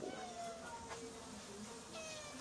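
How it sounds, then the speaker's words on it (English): A cat meows several times in quick succession, thin, high calls that rise and fall, fairly close indoors against a soft background hiss. "the elusive cat"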